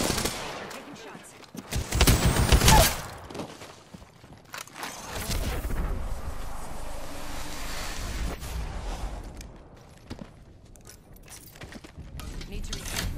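Gunfire in a video game firefight, where a squad takes shots while shields recharge. A loud burst of shooting comes early, then quieter scattered shots and game noise carry on under a player's voice.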